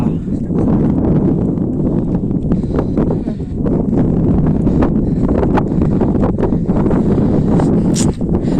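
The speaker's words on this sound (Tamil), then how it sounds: "அந்த காத்து சார்." Strong wind buffets the microphone at a hilltop fort, a loud continuous roar with gusty rustling, and people talk briefly beneath it.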